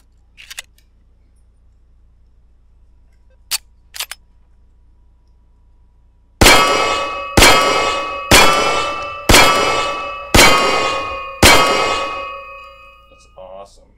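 Sharp metallic clacks in a rhythmic run of six, each ringing briefly, as ammo is picked up in the VR game Hot Dogs, Horseshoes & Hand Grenades, preceded by a few faint isolated clicks.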